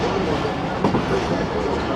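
A train on the 13UP Awam Express pulls out of Dina railway station, its steady, close rumble of wheels and carriage noise filling the whole stretch without a break.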